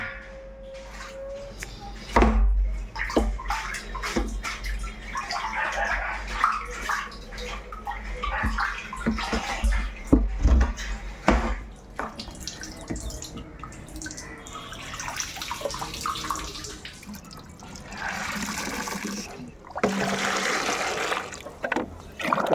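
Water splashes and pours inside a dirty household water tank during cleaning, irregular sloshing with knocks and bumps of handling, louder surges toward the end.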